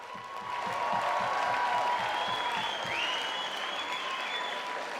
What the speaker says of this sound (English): how about a round of applause for these two warriors?